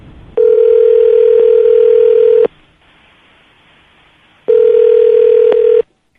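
A loud, steady telephone dial tone sounds for about two seconds, falls silent, then returns for another stretch before cutting off.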